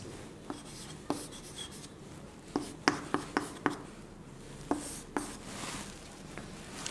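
Writing on a board in a grammar lesson, faint scratchy strokes and sharp taps at irregular intervals over quiet room noise.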